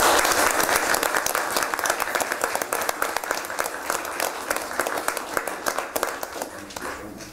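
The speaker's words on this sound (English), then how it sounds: "Give these folks a round of applause." A council meeting audience gives a sustained round of applause, many hands clapping densely and steadily for several seconds, fading slightly toward the end.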